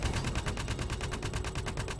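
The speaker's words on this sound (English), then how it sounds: "Gatling cannon." Gatling cannon firing from a Vanguard ship in the video game Star Citizen, a rapid, evenly spaced stream of loud shots lasting about two seconds, with no talk.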